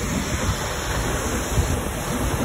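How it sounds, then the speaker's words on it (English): Steady broadband roar of a waterfall in Prospect, loud and continuous with heavy low rumble and constant hiss, no voices over it. "You can feel the mist from the waterfall hitting you."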